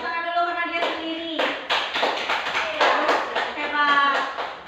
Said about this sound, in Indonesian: Pada Melati, kelompok Melati tepuk tangan dulu karena dia sendiri